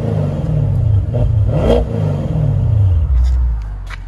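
An Audi S7 with a 4.0L twin-turbo V8 and straight pipes revs loudly at close range, in a deep rumbling burble with repeated surges and a sharp blip midway before settling.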